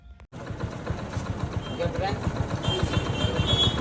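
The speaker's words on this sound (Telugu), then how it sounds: "బైక్ ఇంజిన్ అయితే స్టార్ట్ చేస్తున్నాము" After a brief start, a motorcycle engine, just fitted with a new timing chain, settles into a steady idle with a rapid low thumping rhythm that grows slightly louder toward the end.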